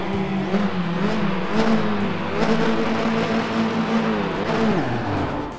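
Formula RaceRoom Junior open-wheel race car from a racing video game launches off the start, its engine revving loud and close through rising and shifting gear tones with other cars droning alongside.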